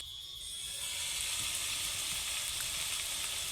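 Ground garlic and cumin paste frying in hot oil gives a steady, close sizzle that swells within the first second and then holds evenly, with no voices.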